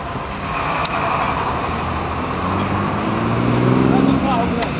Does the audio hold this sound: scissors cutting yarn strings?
no